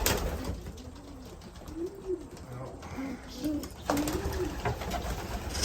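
Young racing pigeons coo in soft, repeated rolling phrases close by, several overlapping calls over a steady background hum and rustle.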